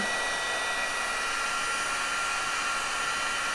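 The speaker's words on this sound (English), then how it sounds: "I'm going to turn on the heat tool, let it allow it to heat up a little bit. It's going to be noisy" A heat tool for melting sealing wax blows hot air in a steady, loud, hissing whoosh that holds constant throughout.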